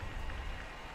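Video game crowd applause and cheering in a Quidditch match, a steady dense roar of clapping from a large stadium audience, continuous and fairly loud throughout.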